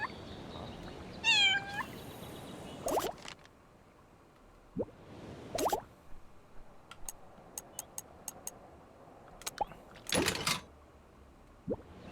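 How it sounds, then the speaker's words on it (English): A game cat meows in Little Kitty, Big City, one short rising meow early on, followed by scattered soft ticks, taps and thuds over a quiet background. "Oh, I have a meow button?"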